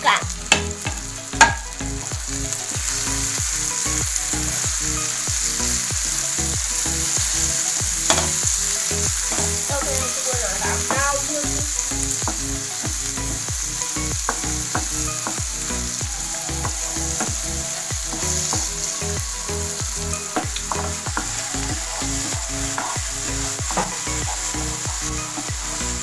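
Kadai chicken masala with garlic, ginger and green chilli frying in a pan while a spoon stirs it, with rhythmic scraping and knocking strokes over continuous loud sizzling, close and steady throughout, no voices.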